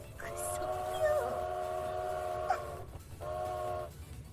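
A hype train alert whistle from a live stream chat sounds as two sustained, chord-like whistle blasts: a long one lasting over two seconds, then a brief pause and a shorter second blast, fairly loud and close.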